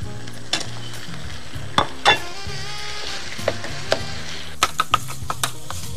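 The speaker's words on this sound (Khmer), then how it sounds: "យើងយកសាច់ជ្រូកហើយនឹងត្រីប្រមាចាដែលយើងបានចិញ្ច្រាំចូលគ្នានេះយកមកឆា" Minced pork and pounded fermented fish (trey broma) stir-fry for a Khmer dish, with a steady loud sizzle broken by occasional sharp scrapes and clanks of the spatula in the pan; no talking.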